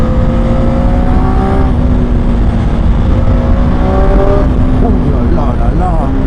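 A 2021 Triumph Street Triple 765 RS roadster at full throttle, engine howling and rising in pitch through shifts, loud and steady, with a rider speaking over the roar.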